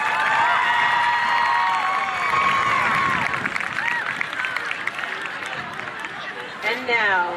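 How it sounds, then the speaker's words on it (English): A crowd at a high school homecoming football game applauds and cheers for the homecoming court, a loud sustained wash of clapping and voices with scattered shouts, easing off slightly before a brief burst near the end. "Let's have another round of applause for Bridget and the homecoming court and their escorts."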